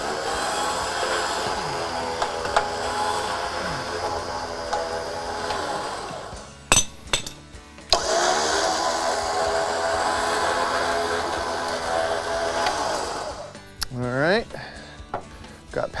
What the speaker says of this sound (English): So I'm gonna go ahead and just try to winch out and see if that will actually release.